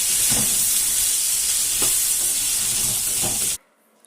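Chopped okra fries in hot oil in a pan after mustard seeds splutter, a loud, close, continuous sizzle and hiss with occasional stirring taps, cutting off abruptly into silence near the end.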